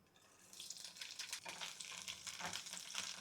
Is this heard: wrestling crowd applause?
no